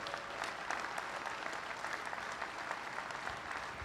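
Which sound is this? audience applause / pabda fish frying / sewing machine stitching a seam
audience applause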